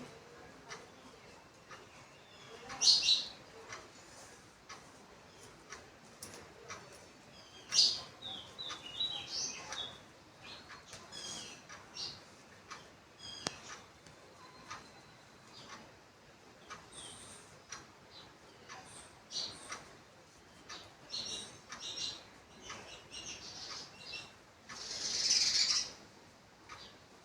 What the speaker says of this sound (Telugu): బయట అయితే పిచ్చుకలు అరుస్తున్నాయి